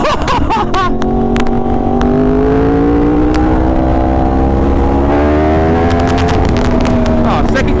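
A Yamaha R1 superbike engine revs hard during a wheelie, its rising, sustained tone loud and close, with excited shouting over the top.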